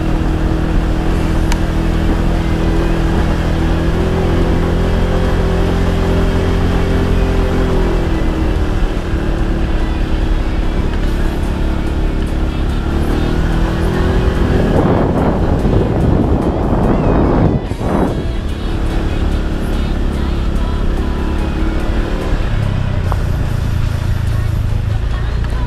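A car drives along a narrow road with a steady loud engine drone and heavy wind buffeting, with shifting engine tones and a brief rush of noise midway.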